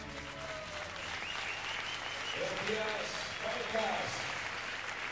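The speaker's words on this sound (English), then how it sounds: "a good round of applause for that, the tango" An audience in a dance championship hall applauds after a tango, a steady wash of clapping heard from a distance with music and voices faintly underneath.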